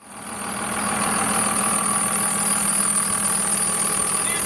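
A truck engine with a faulty alternator belt runs steadily nearby, a constant mechanical drone topped by a persistent high-pitched squeal.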